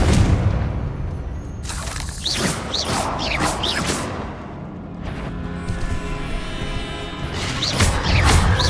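Bombarda and Confringo spell explosions in the game Hogwarts Legacy: a close, loud barrage of booming blasts and crashes with whooshing tails, firing in quick succession over a continuous rumble.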